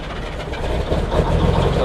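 A British double-decker bus engine cranks and catches, its deep rumble building and growing louder and rougher over a couple of seconds with no talk.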